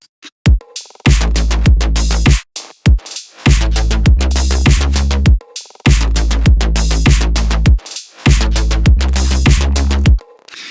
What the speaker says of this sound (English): It's just a simple mid-tempo beat